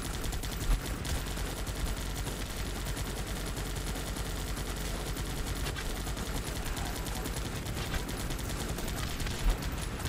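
Sustained gunfire aimed at a bunker in the video game Guns Up, a dense, continuous crackle of shots that runs for the whole stretch at an even loudness, with no talk over it.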